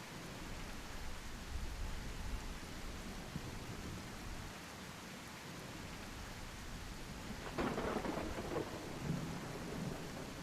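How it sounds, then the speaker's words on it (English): Steady rain hisses through a thunderstorm in a dinosaur video game, with a low rumble of thunder swelling partway through and lingering under the downpour. "Yeah, we definitely have a storm coming."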